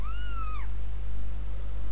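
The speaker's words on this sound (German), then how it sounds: "Ah, das süße Kätzchen." A single short cat meow from the video game Zelda Skyward Sword, rising then falling, clear over a steady low game hum.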